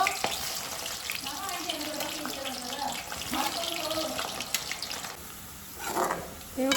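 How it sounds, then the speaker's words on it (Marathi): Onion fries in a pan with a continuous close sizzle and crackle, while a voice speaks over it and some water-like clatter runs underneath. "कांदो असं सोनेरी होईपर्यंत भाजून घेतोय."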